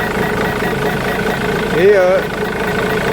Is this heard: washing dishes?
no